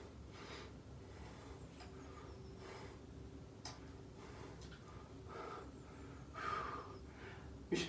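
Heavy, quick breathing after a PE exercise session, close and fairly quiet, with several rhythmic breaths in and out and a faint ticking in the background.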